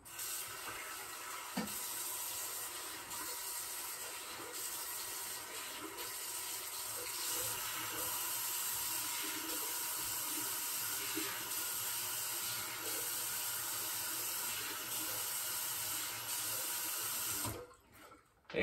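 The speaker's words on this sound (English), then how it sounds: "let's go rinse it off" Steady running tap water during a rinse-off after shampoo and conditioner, a continuous close splashing hiss that holds for about seventeen seconds before cutting off abruptly near the end.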